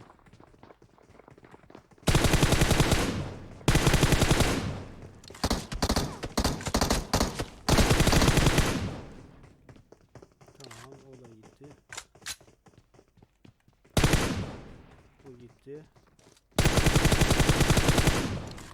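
Bursts of automatic gunfire in PUBG Mobile at an ancient temple map, several loud rapid volleys separated by pauses, with a player talking quietly between them.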